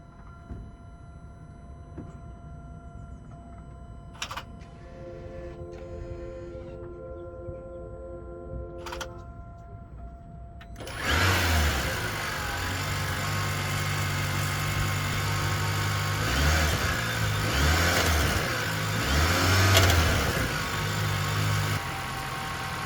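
A 2025 Hyundai Santa Fe plug-in hybrid starts its engine after a quiet stretch with a few faint clicks, then settles into a steady, low idling hum that swells slightly and stays running near the listener.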